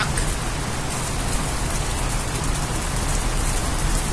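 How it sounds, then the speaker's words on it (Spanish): Steady, dense rain falls in the video game Kegen no Koi, a constant even hiss with no breaks and no voices. "Llueve y todavía hay niebla."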